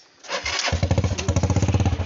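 A motorcycle engine cranks, catches and settles into a loud, steady putter close by, its rhythmic pulses clear and unmasked.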